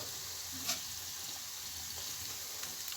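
Potato peels deep-fry in oil with a constant, dense sizzle and crackle. The sound is even and moderately quiet, with a few faint pops and no voices.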